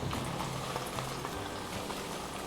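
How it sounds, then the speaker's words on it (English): Flipped tofu sizzles in hot oil in a home kitchen as part of a beef and egg tofu dish, giving a steady, dense crackle and spatter that continues evenly throughout with no talking. "Watch me flip this tofu now."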